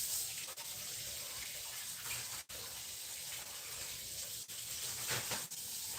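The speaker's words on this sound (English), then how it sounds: "Just rinse it off and dry it." Tap water runs faintly and steadily, spattering as a grater with carrot on it is rinsed in a kitchen sink. There are a few soft knocks and no voices.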